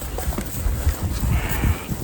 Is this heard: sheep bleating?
yes